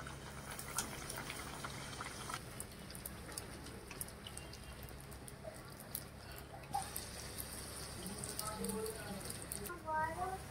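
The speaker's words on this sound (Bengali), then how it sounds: "গরম তেলে বেলে রাখা লুচিগুলো ছেড়ে দেব।" Rolled luchi dropped into hot oil and frying, a continuous soft bubbling sizzle at low level throughout, with a person talking over it.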